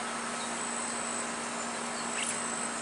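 Honeybees from two split hives, each built up to a double with a honey super, keep a steady, even buzzing hum close by throughout, with no talk over it.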